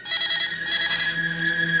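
A telephone rings at night in two clear, loud bursts with a short gap between them, and nothing else can be heard.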